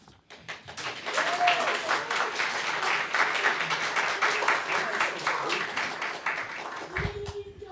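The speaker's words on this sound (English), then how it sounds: "Let's give our pageant participants another round of applause" Congregation applauding pageant participants at a Buddhist temple family service: clapping swells quickly from near silence into a sustained, fairly loud round, with scattered voices underneath and a voice starting to talk as it fades at the end.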